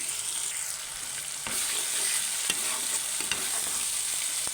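Spice masala fries and is stirred in oil, sizzling steadily with scattered clinks and scrapes of the spoon against the pan, close and fairly loud, with no talking.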